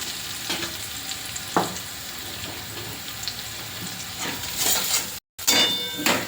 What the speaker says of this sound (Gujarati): હવે આ રીતે થોડું હલાવીશું જેથી કરીને વઘાર આપણો બળી ના જાય